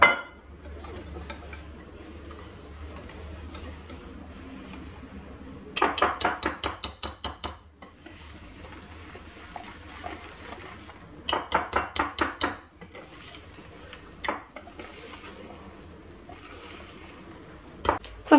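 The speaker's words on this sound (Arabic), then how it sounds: "نخلط شوية، دابا غادي نضيف السميدة الرائعة" A spoon stirs a yogurt and coconut harcha batter as semolina is added, with two bursts of quick, rhythmic scraping against the bowl separated by quieter kitchen background.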